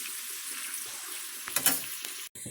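Shrimp frying in a pan, a steady close sizzle with hissy crackle that swells briefly before a short cut near the end.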